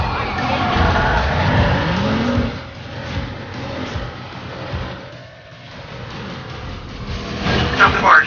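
A driverless car in the Watch Dogs 2 video game drives past with engine noise and tires skidding. Overlapping in-game voices talk over the sound, which dips in the middle and rises again near the end.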